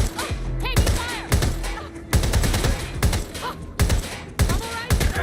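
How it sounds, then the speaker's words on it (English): Gunfire in Watch Dogs Legion comes in sharp, loud bursts, several volleys of rapid shots separated by short pauses, close and punchy, with game voices briefly heard between them. "Taking fire."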